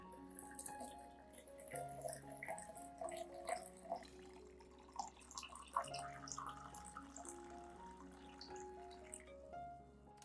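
Clean water is poured to dilute a cinnamon solution for treating orchids, a faint, gentle trickle and splash that goes on under soft background music.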